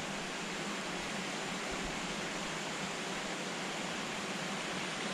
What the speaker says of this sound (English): This tiny little light rain coming down from this creek up there.